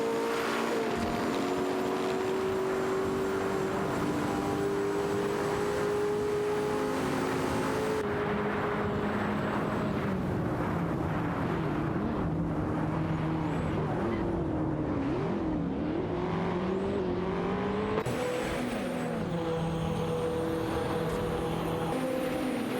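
Race cars in a racing video game battling for position, several engines whining and shifting pitch as they jostle closely, loud and continuous with overlapping tones that rise and fall throughout.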